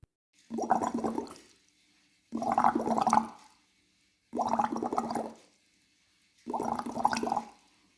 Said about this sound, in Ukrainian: Друга вправа коротке булькання. Бульк, бульк, бульк.